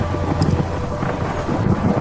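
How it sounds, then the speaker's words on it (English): Heavy rain and rumbling thunder in the GTA San Andreas video game, a loud, steady low roar of downpour and storm with no voices over it. "the rain got heavier"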